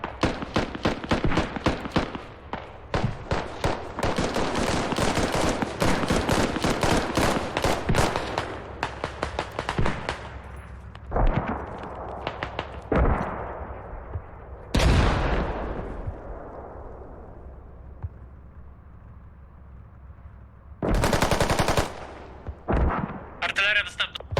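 Dense, rapid gunfire and heavy cannon blasts from a tank battle video game fill the first half, then separate booming shots with ringing decay and more bursts follow, loud and close, with commentators talking underneath.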